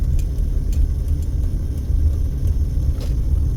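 UPS truck driving by on a street near a busy airport: a steady, loud low engine rumble and road noise dominate, heard from inside a moving vehicle, with faint ticking clicks scattered through.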